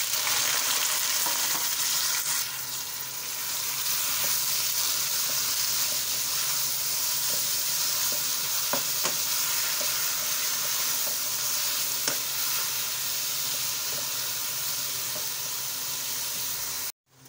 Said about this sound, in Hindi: ऑयल डालने के बाद इसके अंदर जो है ना हम प्याज फ्राई कर लेंगे